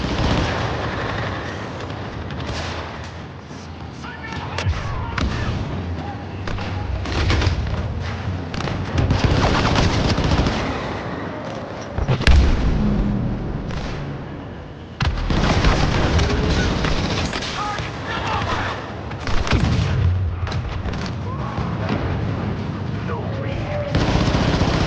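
Grenade blasts and gunfire from a Star Wars Battlefront II battle on the Death Star II, with dense continuous combat noise, repeated booms and sharp explosions throughout, and voices talking over the fighting.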